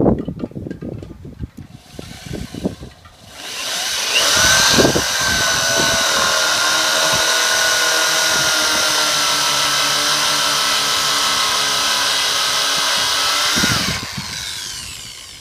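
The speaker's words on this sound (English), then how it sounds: "Now I got a nice place to drill." After a few light knocks and handling sounds, a power drill whirs up loudly and runs at a steady, high-pitched whine for about ten seconds before winding down.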